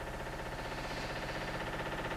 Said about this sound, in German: was ihr da hört, ist meine Waschmaschine